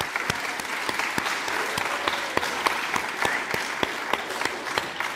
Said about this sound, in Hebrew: מגיע לכם כפיים.